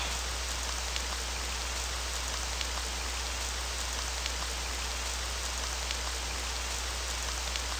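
Steady rain falls throughout, a dense even hiss of drops on surfaces with faint scattered taps, continuous and fairly close with no voices.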